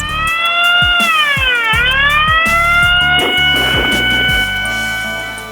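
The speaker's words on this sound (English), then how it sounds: "The fire alarm sounds like this." A loud wailing siren-like alarm sweeps down and back up in pitch, with a rhythmic pulsing tone beneath, sounding continuously and close.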